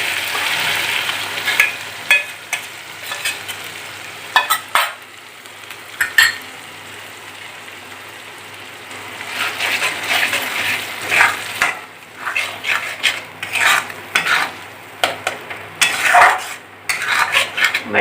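A paste of ground nuts, peanuts, sesame and poppy seeds fries in curry gravy in a pan. It sizzles softly while a metal spoon scrapes and clinks against the pan in uneven bursts of stirring.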